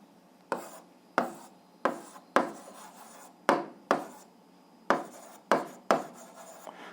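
Pen or chalk strokes write out the answer to an algebra equation, about nine sharp scratching strokes in an uneven rhythm with short gaps between them, close and alone in a quiet room.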